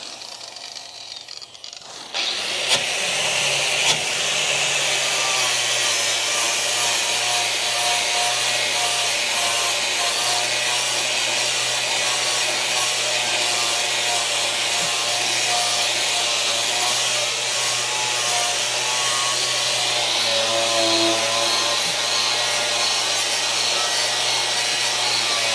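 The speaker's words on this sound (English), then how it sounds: "The grinder sounds like a lightsaber." An angle grinder cuts into the sheet-metal body of a crew cab Charger, spinning up after a brief pause and then whining steadily and loudly at close range, with a harsh, continuous abrasive hiss.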